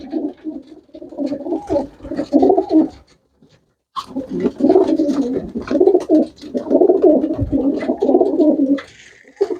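Pigeons cooing nearby in repeated throaty rumbling bursts, with a short quiet gap before the cooing resumes, loud and continuous.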